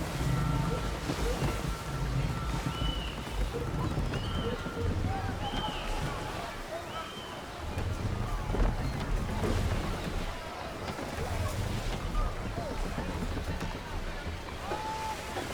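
A sailing ship moves across open sea in Assassin's Creed 3, with a steady wash of wind and waves rushing around the hull throughout, and shouted voices and a few creaks heard above it.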